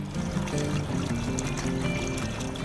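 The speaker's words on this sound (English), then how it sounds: "These are our sampling hydrants. Just let that flow for a minute or so" Water flows from an open water-quality sampling hydrant in a continuous, steady gushing pour, close and even, with no talking.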